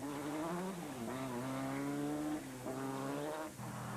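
The big ex-Saint Ford Sierra Cosworth rally car driving a wet single stage at Castle Hellfire in 2002, its engine revving and shifting through gears with rising and falling pitch, steady and fairly close, no voices.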